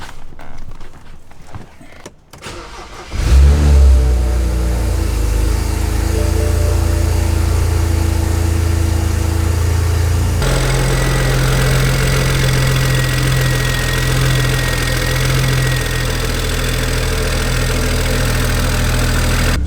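A BMW engine cranks over, fires up loudly and settles into a steady idle, its tone shifting partway through as the revs drop.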